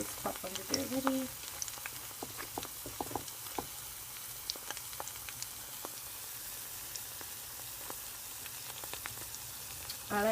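Onion bhajis fry in oil in a pan, giving a soft, steady sizzle with scattered pops and crackles as they crisp, fairly quiet and continuous throughout.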